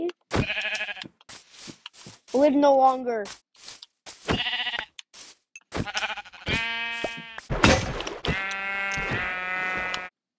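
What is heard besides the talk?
sheep bleating in a video game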